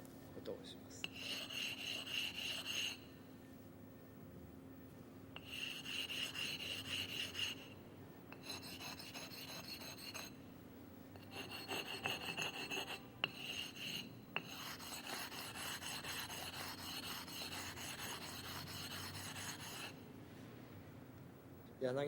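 A sharpening stone is flattened before a yanagi knife is sharpened, heard as close, repeated gritty rasping strokes in bursts separated by short pauses, over a low steady hum.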